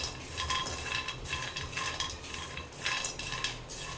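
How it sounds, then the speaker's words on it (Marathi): Peanuts dry roasting in a pan over low heat, stirred with a spoon in repeated soft rattling, scraping strokes at close range. "खरपूस शेंगदाणे भाजून घ्यायचे करपायचे नाहीत पण खमंगाशे भाजून घ्यायचे"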